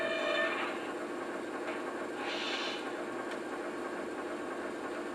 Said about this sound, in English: stop the train by applying the brakes